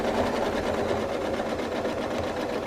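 A sewing machine quilts along a ruler, running a steady, fast, rhythmic stitching whir at close range with no talk.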